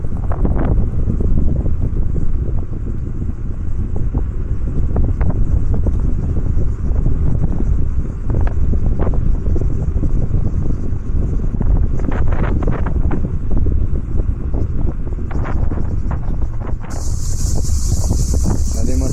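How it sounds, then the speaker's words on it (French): Strong wind buffets the microphone beside Lac du Salagou, a loud, steady roar of low rumbling gusts that persists throughout with no pause. "Et on a vraiment beaucoup de vent."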